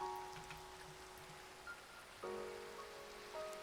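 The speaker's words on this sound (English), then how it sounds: "it's raining" Rain falling in Minecraft, a soft steady patter under faint game tones and music, quiet and continuous.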